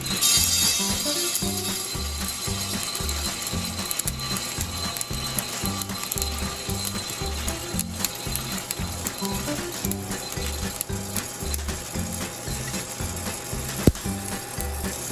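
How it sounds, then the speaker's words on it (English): A Hottop home coffee roaster ejecting freshly roasted beans, its mechanism giving a loud, steady, rapid ratcheting clatter of gears and stirring arms throughout, close up with no speech. "now we're ready to eject the beans"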